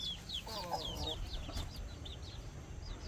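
Chickens cluck softly nearby in short, repeated calls over a low outdoor hum, with one brief burst of louder clucking partway through.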